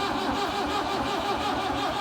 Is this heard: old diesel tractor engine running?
yes